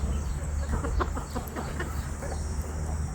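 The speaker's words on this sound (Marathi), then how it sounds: "तर बघा कोंबड्यांना टाकलंय, कशा कोंबड्या खाते त्या." Chickens pecking at and eating watermelon scraps tossed onto the ground, with soft clucking and pecking sounds scattered steadily against a constant background noise.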